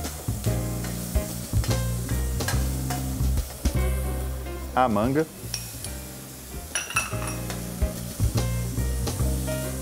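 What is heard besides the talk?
shrimp frying in a pan with onion and leek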